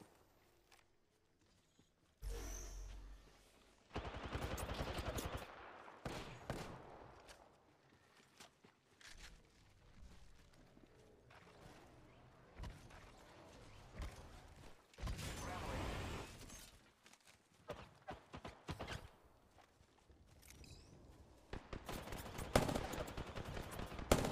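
Enemy gunfire in a first-person shooter video game, bursts of automatic shots and single cracks arriving in clusters, mixed with footsteps and shattering impacts, loud at moments and fading between bursts.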